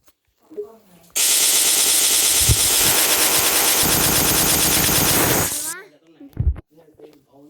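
Video game gunfire rips out as one loud, continuous automatic burst lasting about four seconds. Brief voices are heard just before and after it.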